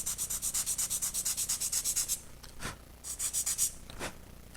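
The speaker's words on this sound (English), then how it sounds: "so we'll need to sand it down." Sandpaper rubs back and forth on a small wing part of a P-40 C Tomahawk scale model airplane, a brisk rhythmic run of close strokes, a pause with a few single passes, then another short burst.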